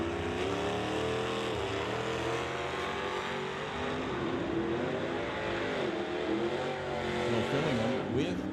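Drag racing cars, a Chevrolet Nova and an AMC-powered car, roar down the strip at an old-time drag event, a sustained loud engine drone with shifting pitch, heard from a distance with a voice talking over it.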